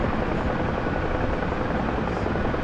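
A helicopter in flight gives a steady, loud, close broadband rotor and engine roar that continues unbroken with no talk over it.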